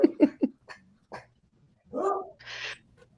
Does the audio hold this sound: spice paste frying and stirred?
no